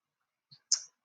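A computer mouse clicks twice in quick succession, a faint tick followed by a sharper, louder click, close and isolated in silence.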